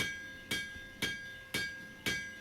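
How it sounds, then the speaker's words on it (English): Hammer blows on a workpiece played back sped up, five sharp bright metallic strikes at an even quick rhythm, each ringing briefly before the next, close and alone with no talk. "Sure wish I could hammer hyper fast like that in real life."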